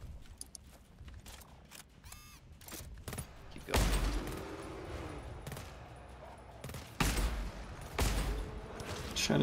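Gunfire rings out in the sci-fi shooter GTFO, with several sharp loud shots and short bursts in separate clusters over a quiet, tense background.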